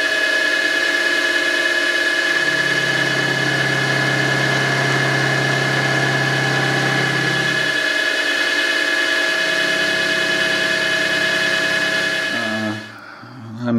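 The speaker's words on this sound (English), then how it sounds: "now we can use this nice ISCAR carbide end mill to face off the ends. And we're running at 1000 RPM again." An ISCAR carbide end mill turning at 1000 RPM faces off the ends of a steel part, giving a steady high whine and hum with a lower drone that rises twice, then winds down at the end.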